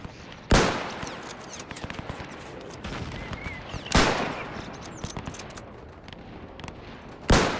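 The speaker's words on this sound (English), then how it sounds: "shoot them as they're running" Gunfire in the WW1 strategy game Between Empires: three loud, sharp broadband shots spaced a few seconds apart, over a continuous rumble of distant battlefield firing and scattered cracks.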